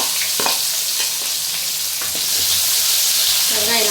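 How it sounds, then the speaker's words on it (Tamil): Onions frying in a pan give a loud, steady sizzle, with a few clinks and faint voices underneath. "வெங்காயம் நல்லா வதங்கட்டும்."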